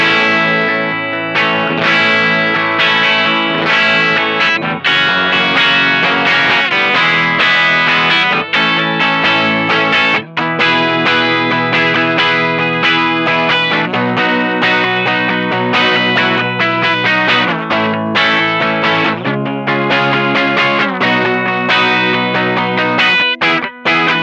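A Gibson '68 Les Paul Custom reissue electric guitar on its bridge pickup, played loud through distortion and chorus effects, with continuous chords and riffs for over twenty seconds and no talking.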